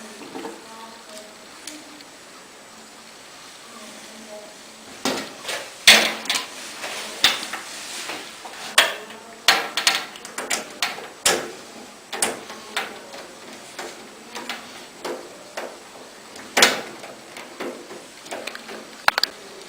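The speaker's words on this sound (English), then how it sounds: "I'm going to just finish the screw. Screwing this." A screw driven into a desktop computer case, heard as scattered close metallic clicks, scrapes and light knocks in an irregular rhythm over quiet room noise.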